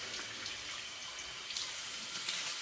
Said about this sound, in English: Cold rinse to close the pores.